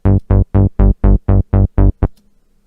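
A deep synth bass plays eight short, punchy notes in a steady rhythm, loud and upfront with no other sounds.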